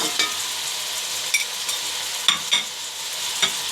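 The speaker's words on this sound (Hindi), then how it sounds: "अब इनको मसाले को ना अच्छी तरह हमने भूनना है" Masala with tomatoes fries in a pot for chana pulao, giving a soft continuous sizzle with a few sharper spatters and stirring clinks, fairly quiet and close, with no talk.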